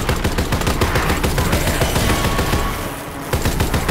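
Sustained rapid automatic gunfire at zombies in Call of Duty: World War II, a dense, loud stream of closely spaced shots that barely lets up, with a brief dip near the end.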